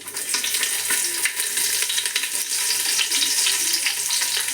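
Onion frying in hot coconut oil with mustard seeds and curry leaves for a jackfruit sukka, a steady dense sizzle with faint stirring scrapes running throughout, close and fairly loud with no talking.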